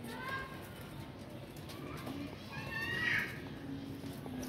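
Pigeons coo softly and steadily at a distance during a pigeon-flying session, with faint chatter and background activity around them.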